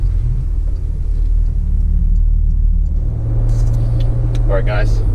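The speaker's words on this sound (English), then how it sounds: "So as I'm slowing down, it's not doing those throttle blips." A 2017 Porsche Macan GTS engine drones at a low, steady rumble while slowing down on the street, with road and cabin noise and a voice talking over it.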